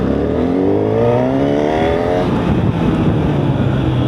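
A 2025 Honda Hornet 1000 motorcycle pulls hard from second gear, its engine note climbing steadily in pitch and staying loud and close throughout, with no talking.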